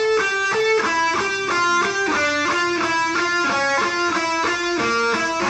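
A guitar runs down through a steady descending finger-exercise line, evenly spaced single notes played cleanly and continuously at moderate volume with no voices.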